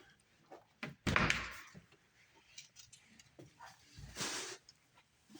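A door in an abandoned hospital's triage area thuds and creaks in a quiet, echoing corridor, with a heavy bang followed by scraping mechanism noise and faint footsteps.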